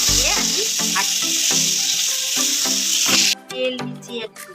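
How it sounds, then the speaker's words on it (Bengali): Potatoes fry in a little oil with salt and turmeric, a loud close sizzle running continuously while someone talks over it, then cutting off abruptly near the end. "আর আলুটাকে অল্প তেল দিয়ে একটু লবণ আর হলুদ দিয়ে আমি ভাজছি।"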